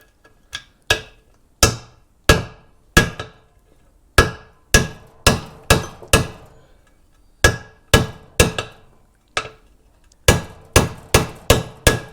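A hammer strikes the swingarm bearing of a Yamaha XT660Z motorcycle in a long series of sharp metallic blows, loud and close, some in rapid runs of four or five and others spaced apart with short pauses, with no voices.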